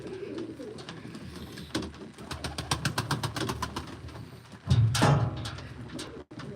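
Bozduman pigeons coo steadily at a live auction of play pigeons, with rapid wing claps and scuffling partway through, then a louder burst of flapping near the end.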